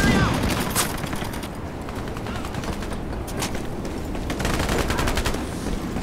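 Rapid SMG bursts from a Vector in a shooter video game, dense overlapping rattling gunfire that runs almost nonstop at close range, with a voice speaking briefly over it.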